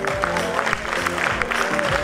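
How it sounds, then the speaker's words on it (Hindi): Applause from a film festival audience, a steady wash of clapping hands that holds loud and dense for the whole stretch, with a faint tonal hum underneath. "मजबूती से थोड़ी तालियां हो जाएं"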